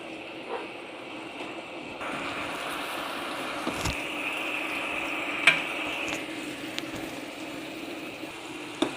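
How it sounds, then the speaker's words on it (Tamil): Onions sautéing in a pan for an egg curry, a continuous low hiss of frying with a few faint scrapes and taps of a spoon, moderately quiet and even. "வெங்காயம் போட்டு நல்லா வணக்கலாம்"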